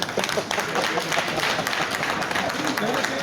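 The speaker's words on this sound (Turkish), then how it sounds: "Alkışlıyoruz kendisini" Audience applause at a charity auction of a European hometown association, a steady crowd clapping that fills the short stretch, with voices mixed in.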